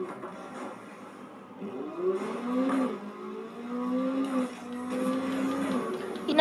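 Car engine in the Need for Speed racing game, revving up and down through several rising whines as the car accelerates and shifts gears, moderately loud over faint background ambience with no talking.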